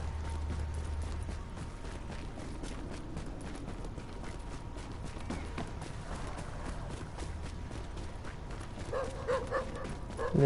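Dog barking in Tom Clancy's The Division game, a few scattered barks and yips mixed into steady game ambience and movement noise, fairly close, with no talk.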